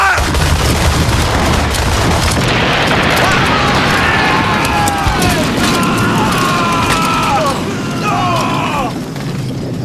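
Broadside of cannons firing from a sailing warship during a sea battle, a loud, continuous booming roar that fills the whole stretch, with high whistling tones rising over it midway.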